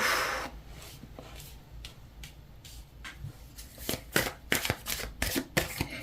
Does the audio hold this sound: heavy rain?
no